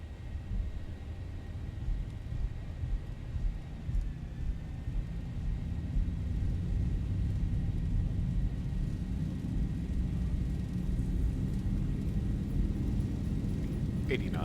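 Boeing 737-800 jet engines spooling up to takeoff thrust in X-Plane 12, a steady low rumble that swells and holds loud and continuous.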